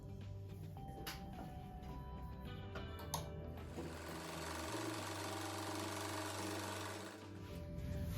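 A sewing machine stitches patchwork seams for a table runner in bursts of close, rapid mechanical whirring, with short pauses and speed changes between runs.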